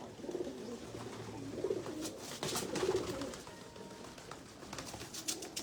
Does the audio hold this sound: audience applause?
no